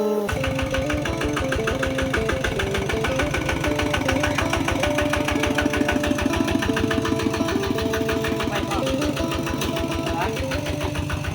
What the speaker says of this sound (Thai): กำลังเอารถไถเข้ามาพี่น้องชาวลาเพิ่นกัน